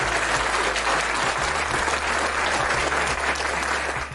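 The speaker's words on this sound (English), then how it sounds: "Let's give a applause." A crowd gives loud, sustained applause, dense clapping that stays steady throughout and tapers slightly at the end.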